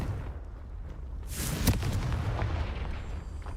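Confringo spell blast in the Hogwarts Legacy game, a sudden fiery explosion bursting out after a short lull and trailing into a rumbling roar that lingers under steady game ambience, no speech.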